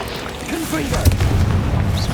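A Confringo fire spell blasts in the Hogwarts Legacy video game, a sudden loud boom followed by a rumbling low roar that fills the rest of the moment.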